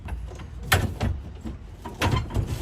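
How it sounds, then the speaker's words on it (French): A push-button sliding door on a citizen participation stand opens with a soft mechanical rumble and a couple of sharper knocks or clunks, heard close and fairly quiet with no talking over it. "et c'est une porte coulissante."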